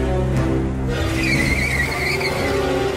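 A car skids with tires squealing on the road, a continuous screech laid over engine noise with no talking, used as the sound of a terrible crash in which a car strikes a girl.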